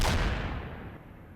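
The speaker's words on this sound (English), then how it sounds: "the first 240mm shells slam into the town centre with devastating effect" A heavy 240mm artillery shell explodes in a town centre in the wartime game Combat Mission Fortress Italy, a loud booming blast that rumbles and fades over a second.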